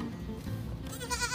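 A young goat on a rainy-season backyard goat farm gives a short bleat at the end, heard over steady outdoor background noise.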